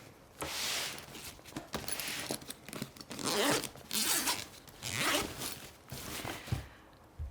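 Camera bag being unzipped up close, a series of quick zipper pulls in short irregular bursts with brief pauses between, crisp and clear with no talking.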